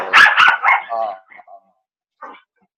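A dog barks a few times from another room, in quick bursts at the start and once more faintly near the end, with a person's voice partly overlapping.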